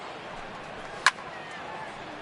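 Baseball bat striking a pitch in MLB The Show 18: one sharp, brief crack stands out midway over a steady stadium crowd murmur.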